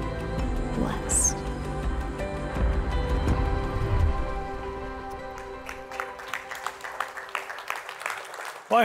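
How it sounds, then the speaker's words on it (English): A church congregation claps during a sermon, scattered applause that thins toward the end while sustained musical tones ring underneath and gradually fade. "hope we're clapping not for me"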